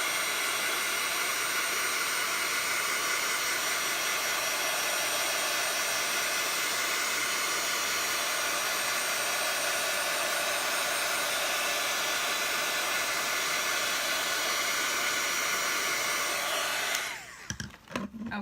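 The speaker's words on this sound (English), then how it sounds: "Okay, heat tool time again." A heat tool blows hot air to melt embossing powder during gilding-flake crafting. The whooshing roar is steady, loud and close, and runs alone for about seventeen seconds before cutting off abruptly.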